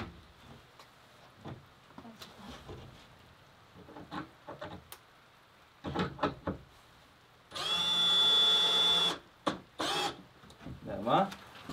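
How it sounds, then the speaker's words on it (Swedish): A power drill drives screws into wood during repairs to a horses' loose-housing shelter, one loud steady whirring burst of about two seconds mid-clip, with people talking before and after it. "vi sätter två skruv och så drar du dit dem när vi är nöjda"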